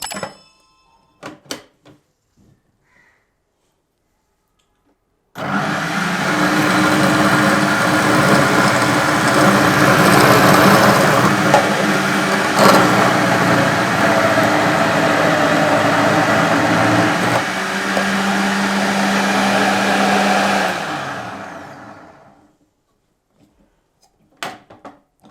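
An electric multi-function vegetable chopper with its blade fitted reversed runs on a carrot for about fifteen seconds, a steady loud whirring motor broken by rattling, knocking chop noises, starting and stopping abruptly with near silence before and after.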